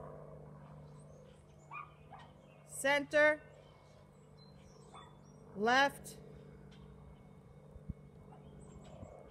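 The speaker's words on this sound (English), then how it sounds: "if you guys can hear that little tiny yapping of a dog in the background" A small dog yaps in the background during a stretching session, a couple of brief high barks heard faintly at a distance, while a person speaks instructions.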